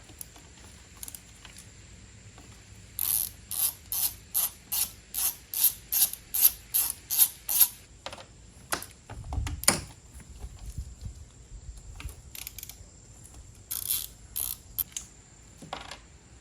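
A hand ratchet loosening 10mm bolts on a power steering line of a Chevy Traverse clicks in a rapid even series of close, crisp pawl bursts, then a clunk of metal and a few scattered clicks afterward.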